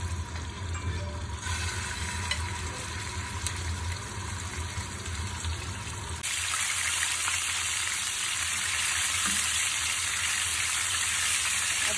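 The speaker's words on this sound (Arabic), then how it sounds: "نحط شوية زيت ونقلي حبات الدجاج" Chicken pieces frying in a little oil in a deep pan, a continuous close sizzle that grows brighter and slightly louder partway through as the pieces go in, with no speech.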